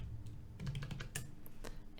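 Close keyboard typing while entering news article details, heard as a quick series of light keystroke clicks over a low hum with no speech.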